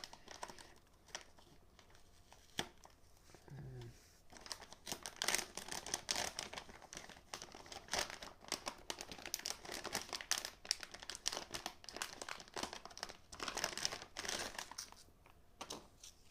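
Crinkly plastic packaging of an Inno3D GTX 950 graphics card being handled and torn open, with irregular rustling and crackling bursts, close and fairly quiet, no talking.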